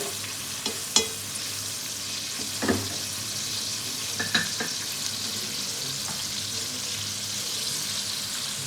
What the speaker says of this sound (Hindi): इसको भी मैं थोड़ा सौते करूँगी, लहसुन अदरक को।